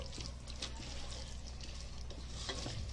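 Masoor lentil curry stirred and frying in a pan, with a steady soft sizzle and scraping stir strokes close by, no voices.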